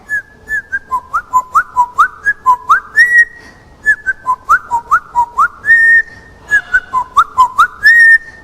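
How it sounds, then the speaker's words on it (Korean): Whistling by a person at a summer Bible school event: a loud, close melodic tune of short repeated notes in rising and falling phrases, clear and alone with no talking. "기분도 좋으니까 휘파람 불러보자."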